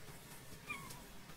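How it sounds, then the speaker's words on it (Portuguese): A cat in the Star Stable video game gives one brief, faint meow, high and thin, near the middle of an otherwise quiet stretch with no talking. "Tem um gato."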